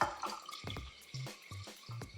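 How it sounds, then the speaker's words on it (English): Water poured slowly onto cooked rice for fermentation, heard as soft irregular splashes and trickling pulses, quiet and close, with no talk. "just slowly add the water"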